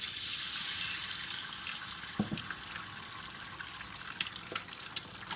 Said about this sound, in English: I'm going to pour in some egg whites.